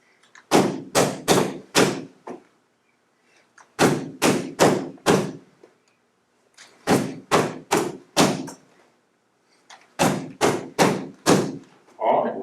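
Karate strikes landing on a held training target during a promotion exam lesson: crisp slapping thuds in rapid groups of four, repeated four times with short pauses between, close and loud.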